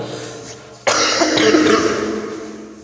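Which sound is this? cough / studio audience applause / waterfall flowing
cough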